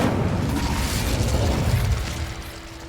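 Incendio fire spell cast in Hogwarts Legacy, a loud rumbling burst of flame that roars for a couple of seconds then eases into a softer crackle with a faint tonal hum.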